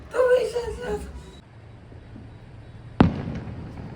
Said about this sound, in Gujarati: વાવ કેટલો મસ્ત ફૂટે છે ફટાકડા